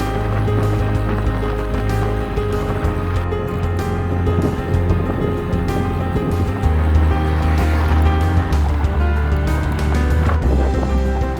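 Wind roars steadily past a bicycle on a road ride through the Karst region near Opatje selo, with loud continuous low rumbling and buffeting throughout and no talk.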